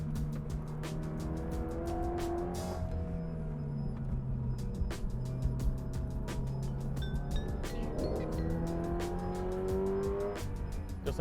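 Subaru BRZ tS driven hard on winding canyon roads, engine droning and rising and falling through gears from inside the cabin, with steady road and tire noise and brief shifts in pitch as it corners.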